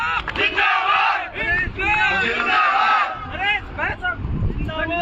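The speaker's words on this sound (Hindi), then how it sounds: "जोरदार तालियों के साथ स्वागत करें।" A crowd at a rally at Shahid Smarak in Jaipur cheers and shouts loudly in sustained bursts, with voices raised together and short dips between waves of noise.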